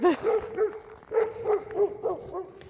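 A dog gives a run of short, high yipping barks in a steady rhythm, moderately close, over faint background noise.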